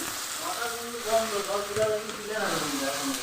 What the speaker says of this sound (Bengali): এই কড়াইয়ে মশলা কষানো হয়ে গেছে, তো মাংসগুলো আমি কড়াইয়ে দিয়ে দিলাম